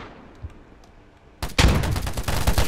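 In a free-to-play first-person shooter resembling Battlefield, set on a metro-style map, quiet ambience gives way to a sudden, sustained burst of rapid, close gunfire.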